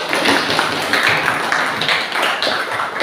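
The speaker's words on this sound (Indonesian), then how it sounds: "Kasih aplaus." An audience applauds after a presentation, a dense, continuous patter of many hands clapping fairly close, steady throughout with no voices.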